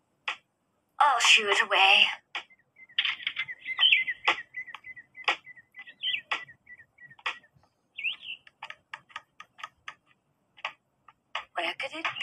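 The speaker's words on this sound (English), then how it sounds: "Listen, sounds like a woodpecker." Rapid tapping of a woodpecker knocking on wood in a Hello Kitty animated film, sharp repeated clicks in irregular bursts, with a voice speaking briefly and bird-like chirps.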